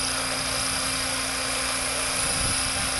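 A helicopter hovering close by and sliding diagonally forward to the right, with a dense continuous rotor and turbine roar and a steady high whine.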